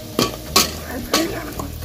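Squid balls fry and sizzle in a pan with okra, bitter gourd and eggplant, stirred with a utensil in three distinct scrapes over a steady hiss.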